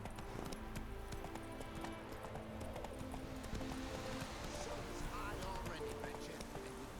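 A horse gallops in The Witcher 3: Wild Hunt, steady rhythmic hoofbeats with an occasional whinny, played under a person talking.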